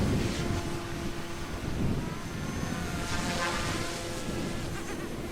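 OMP Hobby M2 EVO RC helicopter doing pirouettes in strong wind, its steady whine heard under heavy wind buffeting the microphone, continuous and moderately loud, with no talk.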